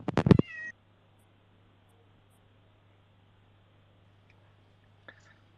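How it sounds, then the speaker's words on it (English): A cat gives one short, fairly loud meow at the start, followed by a low steady hum and a faint click near the end. "Seems the cat must meow."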